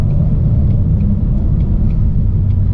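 A car engine with a Lund Racing tune, heard during a wide-open-throttle pull, gives a loud, steady, deep rumbling roar from close by that holds constant with no voices.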